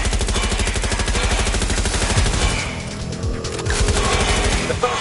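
Rapid sustained automatic gunfire in the Watch Dogs: Legion video game, dense crackling bursts that briefly thin out midway before resuming loud and continuous.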